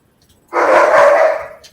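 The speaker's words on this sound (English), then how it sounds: "Your puppy likes to talk too." A German Shepherd puppy gives one drawn-out, whining bark-howl lasting about a second, close and fairly loud, with quiet surroundings before and after.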